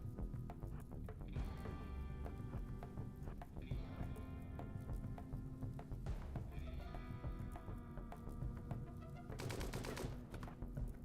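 Gunfire during a tribal run of the game Naked Brutality: a few sharp shots spaced several seconds apart, ringing over steady tonal game music and ambience.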